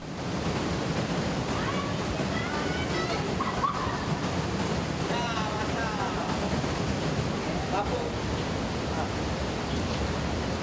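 River water flowing through the Kalisuci cave during cave tubing, a loud continuous rushing wash that fills the whole clip, with faint voices under it.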